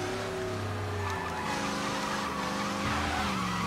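An old car drifts in a video game, its engine droning continuously while the tires skid and squeal through a sustained slide, with no talk over it.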